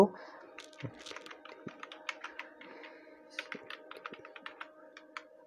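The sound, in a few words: typing on a computer keyboard in Excel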